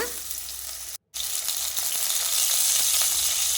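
Onions and curry leaves sauté in hot oil with a pinch of salt for a white pea vegetable curry, giving a loud, steady close-up sizzle with faint stirring ticks and one brief dropout.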